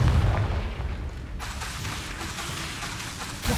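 Confringo blasting spell in the video game Hogwarts Legacy erupts in a heavy, booming explosion with a deep low rumble, then settles into a diffuse hiss and crackle before a second burst at the very end.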